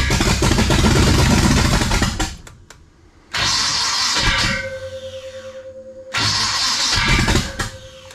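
An abandoned 1956 Chevy wagon, left motorless for years, cranks and catches in loud close bursts, with a sputtering start, a drop to near quiet, then further rough revving attempts.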